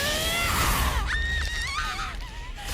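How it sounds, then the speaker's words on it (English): A loud, sustained scream from an animated RWBY Volume 8 episode, shrill and wavering as it rises and falls over roughly three seconds with rough, tense sound underneath. "Oh gosh, that scream!"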